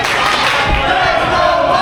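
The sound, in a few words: wrestling crowd chanting Let's Go Barton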